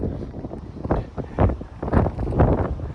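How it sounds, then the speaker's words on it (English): Gusty wind buffets the microphone at an outdoor dealer auction, a low rumbling roar that rises and falls in several surges, with no clear voices. "Man, there's that wind."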